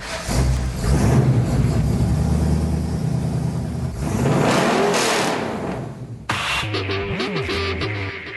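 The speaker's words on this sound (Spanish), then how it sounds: "¿Quieren ver cómo es un motor Ferrari? Ahí tienen una idea." A Ferrari engine revs loudly in several bursts, rising and falling in pitch with a deep rumble, close by, without talk.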